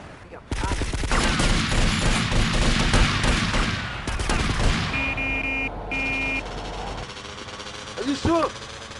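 Rapid gunfire bursts from GTA: Vice City roar for several seconds, dense and loud, then give way to engine noise, electronic tones and a short voice near the end.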